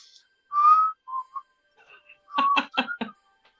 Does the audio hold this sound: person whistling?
yes